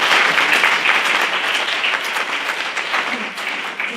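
Applause from an audience for three newest members of the Society of Excellence at a Founders Day celebration, a dense, steady clapping that fades slightly toward the end.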